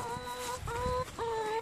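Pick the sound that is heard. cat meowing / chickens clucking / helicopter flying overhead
chickens clucking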